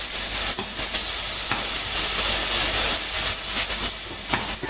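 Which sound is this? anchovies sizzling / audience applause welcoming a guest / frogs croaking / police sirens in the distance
anchovies sizzling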